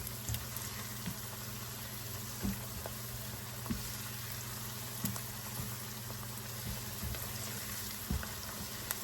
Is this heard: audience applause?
no